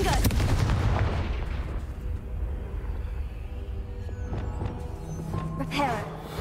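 Fiery Confringo spell blasts in Hogwarts Legacy burst loudly at the start and decay into a rumbling tail, with further sharp impacts toward the end, while a voice talks over the game sound.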